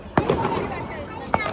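Firecrackers burst at night during a late-night outing, with two sharp cracks standing out over a busy background of crowd noise and voices.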